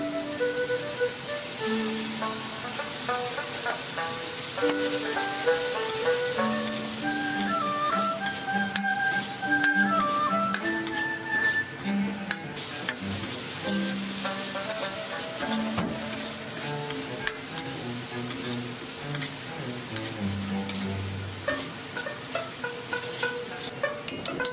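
Spices stir-fried in a wok with pickled ginger and pickled chilies for a spicy hotpot base, a continuous crackling sizzle sitting under louder background music throughout.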